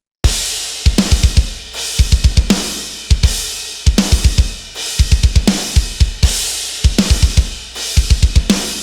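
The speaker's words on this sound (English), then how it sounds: "The darker green are the sampled drum tracks" Sampled metal drum tracks from a mix play alone and loud, with tight rapid kick bursts, cracking snares and bright cymbal wash repeating in a driving pattern.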